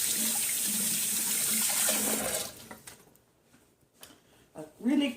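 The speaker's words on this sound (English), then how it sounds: "Just rinse my hands off here" Tap water runs into a sink as hands are rinsed, a steady splashing hiss for about two and a half seconds before the flow stops, followed by a few small handling clatters and brief faint talk near the end.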